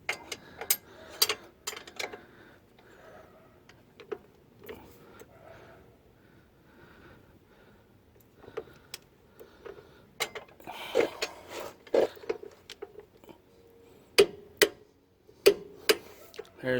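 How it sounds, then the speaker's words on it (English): Torque wrench tightening a bolt while fitting a Rough Country 2-inch leveling kit on a 2017 Chevrolet Silverado, set to 35 foot-pounds; sharp ratcheting clicks come in bursts, clustering loud near the end, with quieter mechanical handling between. "I got my torque wrench set for 35 foot-pounds now"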